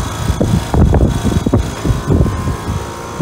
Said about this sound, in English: this is a brand new Trane or American Standard Silver Series central air conditioner at a bank.